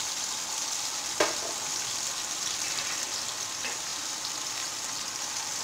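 A paste of tomato, ginger and green chili fries steadily in a pan for a dal of peas, giving a constant loud sizzle with one sharp clink from a utensil early on.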